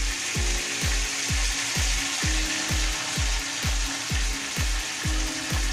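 Pork for humba sizzling in a hot pan, a steady loud frying hiss broken by regular rhythmic scraping or stirring knocks about twice a second.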